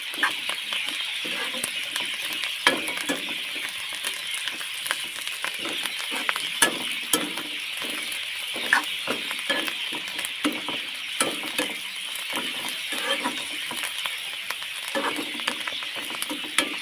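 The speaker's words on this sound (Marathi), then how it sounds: "ही थोडीशी कोथिंबीर आहे ती पण त्याच्यामध्ये मी टाकून घेते आणि परतून घेते त्याला" Bitter gourd and a little fresh coriander are stir-fried in a pan, with a continuous soft sizzle and frequent quick scraping and tapping strokes of a spatula at a brisk, uneven rhythm, close by with no talking.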